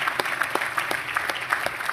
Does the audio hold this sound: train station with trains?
no